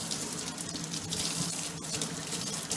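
A kitchen knife is rinsed under a running tap, a steady broadband hiss of water spattering into a sink and over the blade, close and continuous with no voices.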